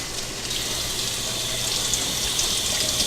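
Tap water runs steadily into a sink while asparagus is washed, a constant close splashing gush that holds at an even level for the whole stretch, with no voices.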